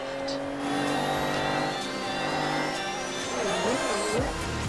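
A car in the racing game Forza Horizon 2 driving onto the Autobahn, its engine holding a steady drone with rising revs and a swooping pitch change near the end, continuous and fairly close.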